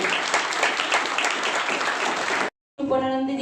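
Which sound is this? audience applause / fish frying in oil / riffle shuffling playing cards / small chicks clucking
audience applause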